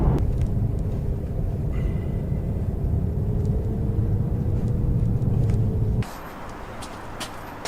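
A BMW M4 on a test drive gives a steady, loud engine and road rumble from inside the car, which drops and changes character near the end.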